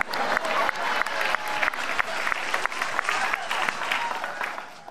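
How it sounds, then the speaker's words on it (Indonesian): Audience applause at a live comedy elimination show, a dense, sustained crowd clapping that stays steady and loud throughout, with faint voices mixed in. "Saya boleh minta tepuk tangannya sekali lagi?"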